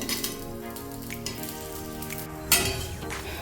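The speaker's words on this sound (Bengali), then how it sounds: "গ্যাসটা একটু লো ফ্লেম করে আমরা ভাজবো।" Food sizzles in ghee over a low gas flame, a soft steady crackle with a sharper burst of spattering and a pan clink partway through; no talking.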